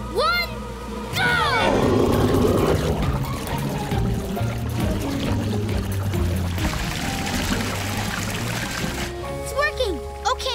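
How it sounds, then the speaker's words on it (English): Cartoon water pouring to fill a bathtub, a steady rushing gush that runs for several seconds beneath bright sound effects, music and a voice talking. "let's fill up the tub with water."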